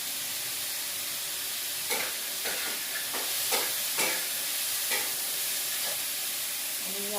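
Sprouts sautéing in a pan with turmeric and curry leaves give a soft, even sizzle close by, punctuated by occasional spoon scrapes and stirs, with no one speaking.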